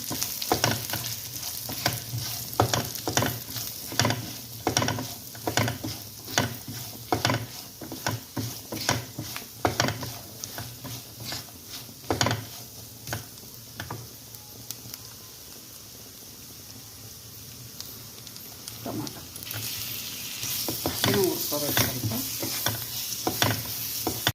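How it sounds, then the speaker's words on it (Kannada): Spices with coriander powder and garam masala are roasted in a pan over a low flame for horse gram gravy, with rhythmic scraping stirs against the pan over a soft sizzle, close and repeated, pausing briefly midway. "ಕಡಿಮೆ ಉರಿ ಇಟ್ಕೊಳ್ಳಿ ಚೆನ್ನಾಗಿ ಹುರ್ಕೋಬೇಕು"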